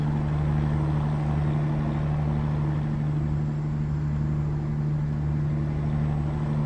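Truck engine idling in American Truck Simulator, a steady, low, droning rumble with a constant hum that stays even and unbroken throughout.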